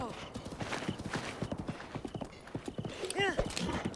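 Horse hooves clip-clop steadily while riding in Zelda: Breath of the Wild, the rhythmic clops running throughout, with a short neigh near the end and someone talking over the galloping.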